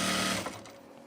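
A sewing machine stitches a tunic with a loud, close mechanical whir that winds down and fades within about a second.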